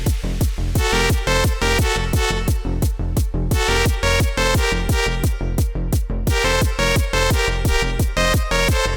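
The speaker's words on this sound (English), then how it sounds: "we're going to look at this drums with the donk and this sort of like very ravey 90s synth" Reproduced gabber-style electronic drums pound in a fast, steady four-on-the-floor pattern with a bouncy donk and a bright ravey 90s synth layered on top, dense and loud throughout.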